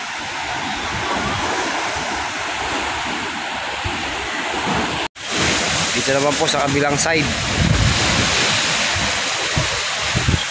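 Heavy surf pounds on Manila Bay in a loud unbroken roar, with wind noise, a sudden cut midway, and someone talking over the water afterward.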